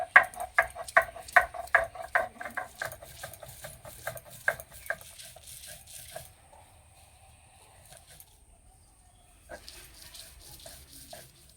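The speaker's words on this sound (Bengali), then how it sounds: "অল্প অল্প জল দেবো আর বেটে নেব।" Homemade sesame seeds being ground with green chillies and a little water, a rhythmic series of scraping, knocking strokes close by that fade into quieter handling, then a few more strokes.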